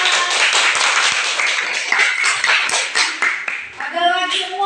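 Classroom of students clapping for a classmate, a lively burst of many hands close by that fades out, followed by a teacher's voice at the end.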